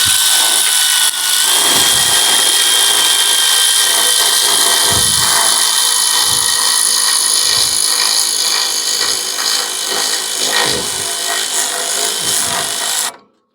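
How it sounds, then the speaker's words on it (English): Power ratchet driving a bolt through an off-road light mount on a 1976 Ford F-150: a loud, continuous close-up whir with faint periodic clicks, cutting off abruptly at the end. "take that power ratchet, run it the rest of the way through"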